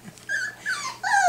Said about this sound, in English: You snarling and biting at her, buddy?